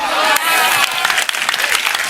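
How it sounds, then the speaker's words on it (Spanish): Brief burst of congregation clapping in a church service, loud and dense for about two seconds, with voices and cheers mixed in. "Si ese es el aplauso"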